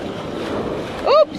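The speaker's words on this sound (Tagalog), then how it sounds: "Ang lakas ng alon." Sea waves at a rocky shore in Oman during mussel foraging, a continuous rushing surge with wind buffeting the microphone, ending in a brief sharp high squeal.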